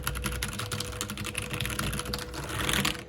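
Keys clack rapidly on a Keychron K8 wireless mechanical keyboard, a dense run of crisp, close taps in quick succession, continuous and alone without any voice.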